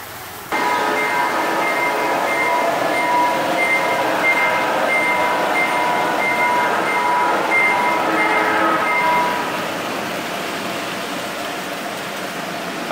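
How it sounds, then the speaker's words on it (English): Model train rolling past at an outdoor garden railway show, a steady loud rumble with clattering and tonal rail squeal that holds for several seconds, then eases off as it moves away. "Here comes the train again."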